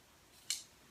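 A single crisp snip of scissors cuts through curtain fabric for a swag, one short bright slice in an otherwise quiet room.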